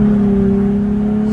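A car engine drones steadily inside a 100 km/h tunnel, a loud, close, sustained low hum with a stable pitch that does not climb much over the short stretch, with no voices.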